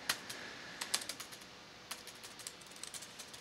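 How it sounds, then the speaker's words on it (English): Fingers type a code comment on a computer keyboard, producing irregular bursts of light, close key clicks with short pauses between runs, alone without speech. "I'm just typing in a comment here to explain what's going on here"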